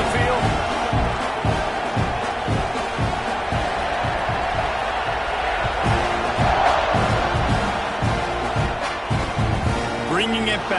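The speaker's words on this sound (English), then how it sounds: "Do you think this crowd's going to get loud when their defense comes on the field?" A football stadium crowd sends up a steady, loud roar that barely dips as the kickoff approaches, with voices talking over the din.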